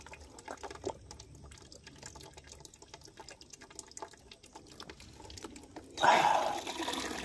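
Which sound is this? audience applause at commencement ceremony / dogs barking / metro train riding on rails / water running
water running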